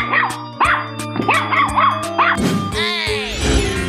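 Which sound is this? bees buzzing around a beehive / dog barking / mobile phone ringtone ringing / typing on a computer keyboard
dog barking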